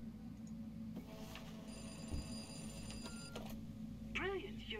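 A telephone rings faintly over a steady low hum, a trilling electronic ring surfacing briefly toward the end amid a busy background.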